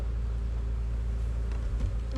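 Honey bees hum and buzz steadily at close range while a nuc is being moved into a hive, with a couple of soft taps and knocks.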